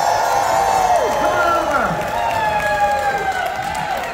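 A cruise ship crowd applauds and cheers for a guest named Bob, with steady clapping and whoops, and a host talks excitedly over the noise.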